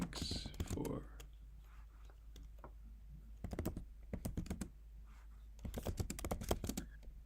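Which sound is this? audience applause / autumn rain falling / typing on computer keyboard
typing on computer keyboard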